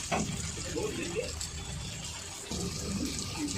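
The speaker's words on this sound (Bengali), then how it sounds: "এবারে দিয়ে দিচ্ছি গরম জল।" Hot water is poured into a cooking pot of braised curry, a steady close rush of liquid that briefly pauses midway and then resumes.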